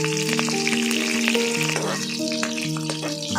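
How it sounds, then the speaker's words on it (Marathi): Garlic and green chillies fry in hot tempering oil with a loud, continuous sizzle and crackle. Some faint tonal background sound runs underneath. "आता मी फोडणीला लसूण टाकते पहिल्यांदा"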